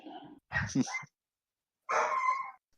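A pet dog nearby gives short whimpers and yips in two separate bursts with a quiet gap between them, moderately loud.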